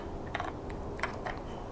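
Clicking and scraping of a 1/4-20 mount being screwed into the base of a Moza Air 2 gimbal, a few short clustered clicks up close with quiet background between.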